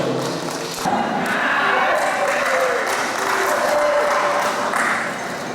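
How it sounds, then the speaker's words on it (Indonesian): Applause at an inauguration ceremony for an FKPPI organisation in Bone Bolango: a dense, continuous wash of clapping in a hall, with voices and faint tonal sounds mixed in, fairly loud throughout. "Tepuk tangan dulu."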